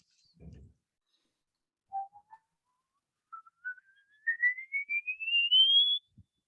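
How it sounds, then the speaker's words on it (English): A man whistles alone, short notes at first, then one long, slow glide climbing steadily to a very high, thin pitch, faint and clear in a quiet room. "He's still whistling"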